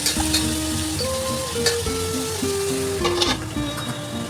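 Carrots and capsicum fry over a medium-high flame for a vegetable chowmein, giving a steady, close sizzle that runs unbroken under melodic background music.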